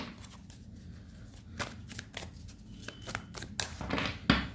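Tarot cards riffle and shuffle in quick, uneven bursts of papery flicks and taps at close range, building toward a few sharper snaps near the end, with no voices over them.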